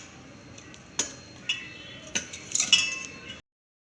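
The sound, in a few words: knife cutting peeled mango into pieces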